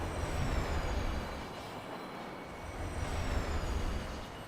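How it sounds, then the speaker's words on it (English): In the video game Destiny 2, trains pass a terminal, a faint, steady rolling rumble with thin high metallic squeals drifting over it, swelling slightly and easing off without any talk. "listening to the sounds of the train as they pass by the terminal"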